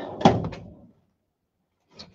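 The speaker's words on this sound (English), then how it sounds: "Go over to my cabinet drawers, my filing cabinet drawers." A filing cabinet drawer closing, one close sliding thunk that fades out, then after a pause a brief softer knock.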